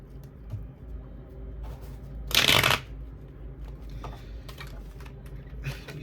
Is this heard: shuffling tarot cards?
yes